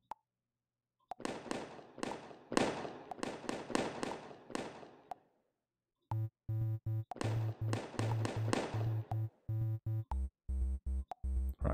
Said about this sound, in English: I'm going to turn the fireworks off because they break my streak